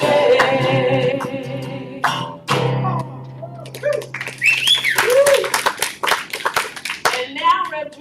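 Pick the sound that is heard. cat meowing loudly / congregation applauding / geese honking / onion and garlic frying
congregation applauding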